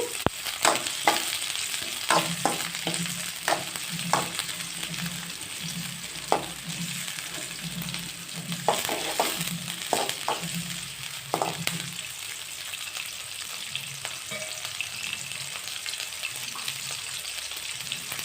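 Chopped green chili frying with onion in a pan, a steady crackling sizzle punctuated by repeated spoon scrapes and stirring knocks, close and moderately loud for a long stretch, with no voices.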